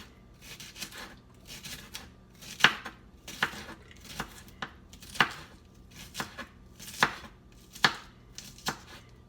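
A knife minces food on a cutting board in a kitchen, sharp rhythmic chops landing roughly every half second to second, crisp and close with a faint background hum between strikes.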